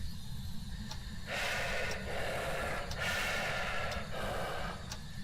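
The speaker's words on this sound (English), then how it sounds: "the heavy breathing effect that you can get if you are within 1 meter of the ghost" Heavy breathing effect from the Deogen ghost in the game Phasmophobia, heard within close range during a spirit box question: slow, loud, rhythmic breathy rasps, about three long exhales, over a low steady background hum.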